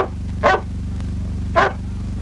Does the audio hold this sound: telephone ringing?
no